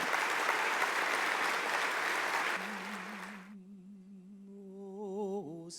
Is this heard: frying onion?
no